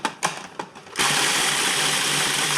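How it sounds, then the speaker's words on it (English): A food processor grinds graham crackers and sugar, starting with a few short pulsing bursts and then switching to a loud, steady whirring grind that runs close up for the rest. "Just break them up a little bit and put them into the food processor"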